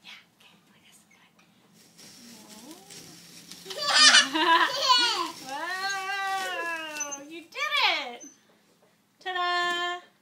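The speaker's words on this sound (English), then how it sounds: "A cat!" A cat meows several times in a row, rising and falling drawn-out calls ending in one sharp short meow, with soft whispered voices nearby early on.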